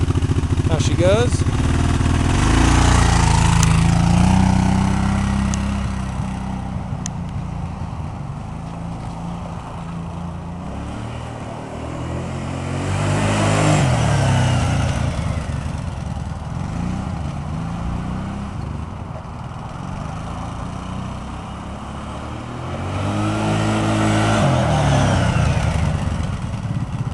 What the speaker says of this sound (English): we'll go ahead and fire it up and take it for a rip around the lot